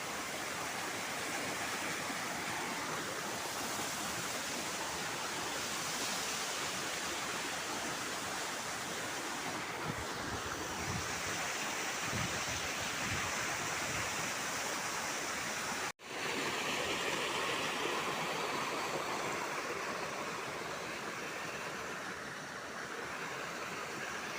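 Cold water of a forest stream rushes steadily and loudly, a continuous full broadband roar that holds for the whole stretch with only one momentary break near the end.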